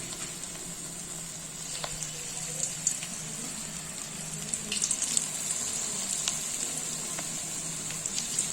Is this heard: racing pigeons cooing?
no